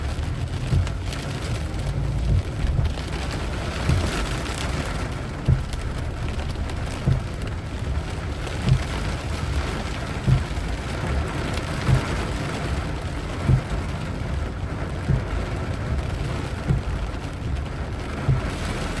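Heavy rain falling during a storm in Vientiane, Laos: a dense, steady hiss of downpour with a low rumbling undertone, broken by faint regular thuds, continuing without pause throughout.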